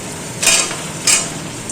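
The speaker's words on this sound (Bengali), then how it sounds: "এই দেখো আমি আলুগুলো দিয়ে দিচ্ছি এর মধ্যে।" Potatoes tipped into a pan of spice masala frying in oil, giving two short scraping, sizzling bursts over a steady low frying hiss.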